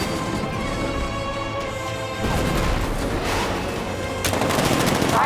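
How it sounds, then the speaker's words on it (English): A 60mm tank cannon fires during a tank battle in the Batman Arkham Knight video game, heard as dense, continuous loud bursts of gunfire and explosions with a sharp crash near the end. "60mm cannon operational."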